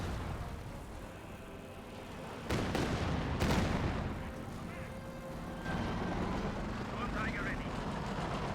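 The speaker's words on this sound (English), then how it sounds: "Katyusha barrage does come on in" Katyusha rocket barrage in Company of Heroes 2 battle, a sudden burst of loud booming impacts amid constant combat rumble and distant gunfire, with someone commentating over it.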